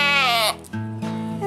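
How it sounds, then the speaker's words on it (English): Female Boer goat on a farm giving a loud, close bleat, a wavering cry followed by a lower, shorter second call. "This is one of my favorite female boar goats at the farm"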